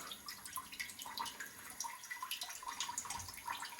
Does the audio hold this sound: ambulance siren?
no